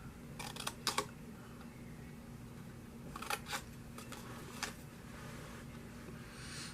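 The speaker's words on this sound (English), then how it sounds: "I'm going to cut these tabs out." Scissors cutting paper tabs for a paper teacup: a few quick, faint snips in two short clusters near the start and middle, over a low steady background hum, no talking.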